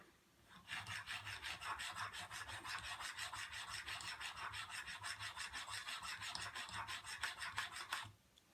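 A swivel knife blade is drawn in quick, even back-and-forth strokes across an abrasive sharpening surface of roughly 1200 grit, making a close, rhythmic rasping scrape for about seven seconds before stopping, with no talk.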